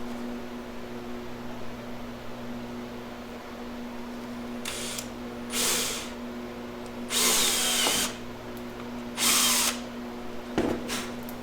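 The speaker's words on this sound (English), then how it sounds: "I'll drill my hole right in the bottom of this gasket groove" A small power drill whirs in several short bursts, drilling a hole in the gasket groove of a wine cooler, the later ones louder and longer, over a steady low electrical hum.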